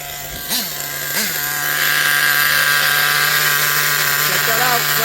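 OFNA Twin Titan nitro RC truck engine running, a high buzzing whine that settles into a loud steady drone after a couple of short revs, close by.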